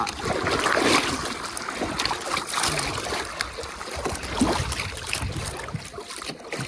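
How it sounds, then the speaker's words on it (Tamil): Paddles work a small boat on a river at Kodiveri near Gobichettipalayam, Erode, Tamil Nadu; constant splashing and rushing water with wind noise fill the scene, close up, with no clear talk. "துடுப்பு போடு மச்சி"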